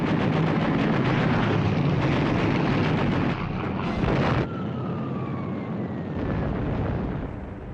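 Naval gunfire during a WWII carrier battle in the Pacific, a loud, continuous barrage of rumbling shots and blasts, followed by a whistling, descending tone as the clamour eases toward the end.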